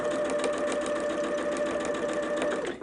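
A sewing machine stitches a pressed holiday quilt piece, running at a steady fast buzzing whir with a constant motor hum, close and uninterrupted until it stops at the end.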